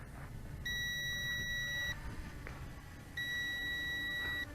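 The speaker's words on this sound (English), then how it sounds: "it turns around and gives off a beep continuously" A Potensic D68 GPS drone gives two long, sustained high electronic beeps with a pause between them, set over a soft background of outdoor noise and faint rotor hum.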